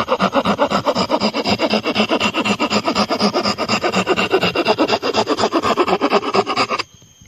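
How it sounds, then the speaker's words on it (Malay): Steady, rapid back-and-forth rasping of a Silky pocket saw cutting through a one-inch wooden board, loud and close, continuing without pause until it stops abruptly near the end. "saya akan potong papan ini Menggunakan saya punya Poket gergaji ni"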